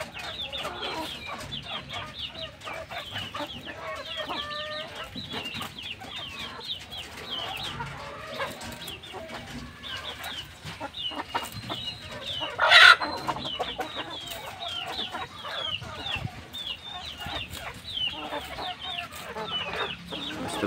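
Multicolour desi rooster and hens cluck steadily in a farm flock, with repeated clucks and calls throughout and one brief louder squawk near the middle.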